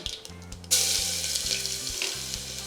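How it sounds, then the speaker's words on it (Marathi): Ginger-garlic paste hits hot oil already popping with mustard seeds, cumin and hing, setting off a sudden loud sizzle over earlier low tones, then a steady hiss with faint stirring; no one speaks. "ते छान परतून घ्यायचं आपल्याला आलं लसूण परतायचं"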